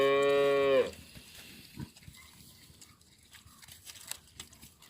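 A single loud, drawn-out cow moo at close range, followed by quieter barnyard shuffling and faint animal noises.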